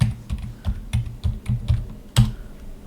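Someone types a password on a computer keyboard, about a dozen quick, close, clicky keystrokes in an uneven rhythm, the last one slightly harder.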